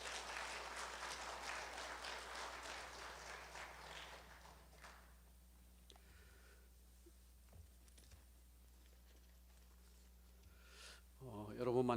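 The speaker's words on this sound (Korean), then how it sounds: "우리 목사님 나오실 때 환영의 박수로 환영하겠습니다" A church congregation at a Sunday worship service applauds to welcome the pastor. Dense clapping fills the first four seconds, then thins into scattered sounds and room murmur, and a voice enters near the end.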